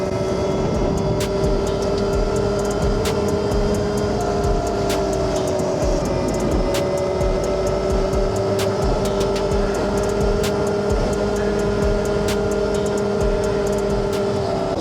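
A REXX T01 72V electric bike ridden flat out off road gives a loud, sustained motor whine over heavy rushing wind and road rumble, holding steady throughout with faint clicks and no voices.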